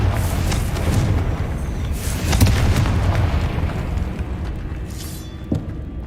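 Confringo fire spell explosion in the Hogwarts Legacy video game, a heavy booming burst within a continuous loud rumble, followed by a smaller thud near the end.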